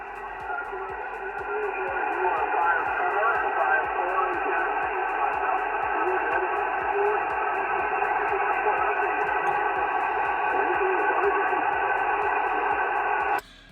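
A weak amateur radio station comes in on 28564 during a Parks on the Air session in South Carolina, a faint voice buried in continuous hissing static with rhythmic pulsing interference, steady throughout until it cuts off abruptly at the end.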